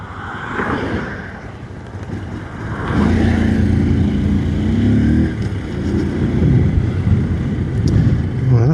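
Honda Super Cub motorcycles running in a drag race, small engines buzzing and revving together close by, the drone swelling louder partway through and holding strong over wind noise.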